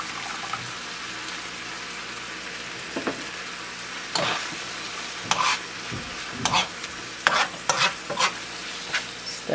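Tomato sauce is stirred into empanada filling frying in a pan: a constant low sizzle broken by several distinct scraping strokes of the spoon, growing busier toward the end, with no voices.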